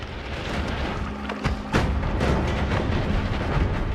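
Explosions in the video game Noita crackle and boom over a dense, noisy roar, with a couple of sharp blasts midway and a steady rumbling wash after them.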